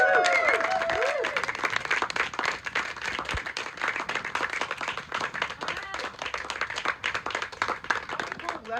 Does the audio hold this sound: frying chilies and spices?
no